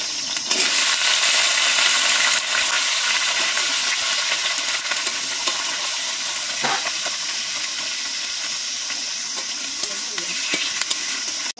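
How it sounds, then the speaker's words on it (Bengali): Potatoes frying in oil in a pan over a wood stove sizzle loudly and continuously, with stirring scrapes and crackles mixed in and a light hiss steady throughout. "আলুগুলো আগে ভেজে নিচ্ছি"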